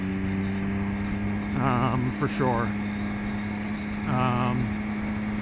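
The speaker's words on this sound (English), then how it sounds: "And the engine just sounds so good." A Triumph Speed Triple R motorcycle engine idles with a steady low hum beneath a man's close, conversational speech.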